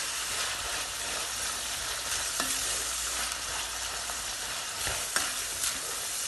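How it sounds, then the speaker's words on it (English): Onions and red bell pepper sizzle steadily in a frying pan while being stirred, a constant close hiss with occasional utensil taps and scrapes against the pan. "Keep stirring, keep stirring,"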